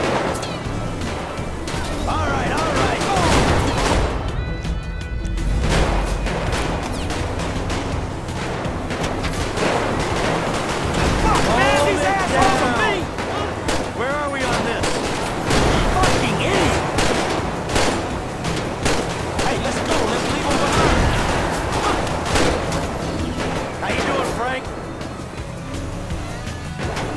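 Dense GTA 5 gunfire and chaotic action sounds run without pause, with repeated shots, crashes and vehicle noise layered into a loud, constant mix.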